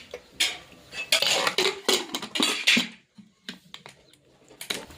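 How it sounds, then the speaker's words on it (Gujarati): A pressure cooker is set onto a lit gas stove with close metallic clanks and clattering knocks in a quick burst, followed by a few lighter taps and scrapes of metal. "આપણે ગેસ સળગાવી દીધો છે કુકર મૂકી દીધું છે"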